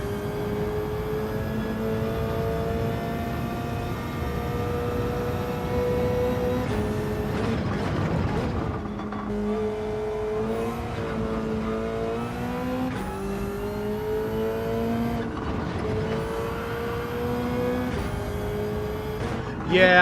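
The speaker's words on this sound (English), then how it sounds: "I was revving there for no reason." A race car engine revs steadily in a Le Mans racing video game, its tone rising and falling with gear shifts over a continuous loud drone throughout.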